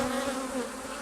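Honeybees buzz close by around an opened hive during a pre-harvest check, a steady droning hum with a clear pitched tone that wavers slightly over a short moment.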